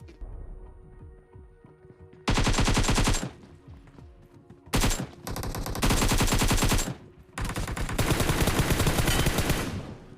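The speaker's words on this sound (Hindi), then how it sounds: "अब एक बंदा वॉल के पीछे से फायर दे रहा था" Gunfire in the BGMI mobile battle royale game comes in loud bursts of rapid automatic shots, several long volleys separated by brief pauses, close and dominant.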